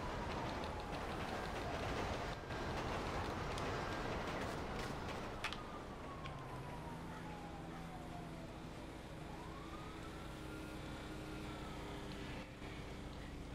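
A train passes in an online roleplay game, a dense, loud rushing rumble with a falling, pitch-shifting horn-like tone as it moves by, steady noise throughout.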